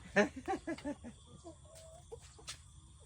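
Farm chickens kept for eggs give a quick series of loud clucks close by, then quieter clucking carries on over low background noise.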